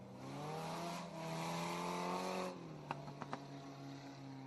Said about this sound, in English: Heat race number 2 for the Bombers rolling out of the speedway.